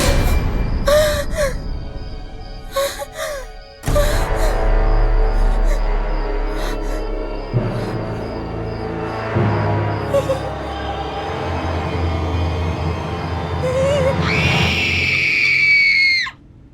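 Frightened screams and gasps in a Pakistani horror drama, loud and sustained, with a sharp high shriek rising near the end over a dense, tense background score.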